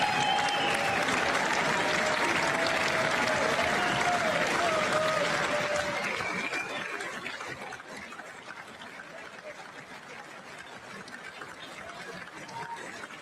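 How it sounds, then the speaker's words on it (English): Sustained applause from a large audience at the State of the Union address, loud and dense at first, then easing to a lower, steady clapping that continues to the end, with some crowd murmur mixed in. "it's enough of that clapping now"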